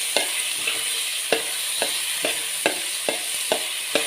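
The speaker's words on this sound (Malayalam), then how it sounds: "ഈ എണ്ണയിലൊന്ന് വറുത്തടിക്കാം." Rice fries in hot oil for ghee rice in a home kitchen, a soft continuous sizzle broken by regular sharp scrapes of a spoon stirring the pan about twice a second.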